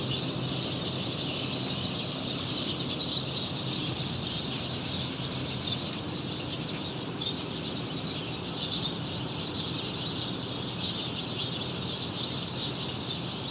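Dense chorus of many birds chirping from trees around a factory at midnight, a steady, continuous twittering with no talk.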